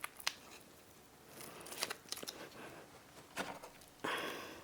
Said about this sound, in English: we will just tear off a corner